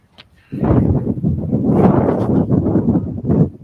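Gusty wind buffets the microphone outdoors, a loud continuous low rumble starting after a brief quiet moment and holding steady throughout with fluctuating intensity.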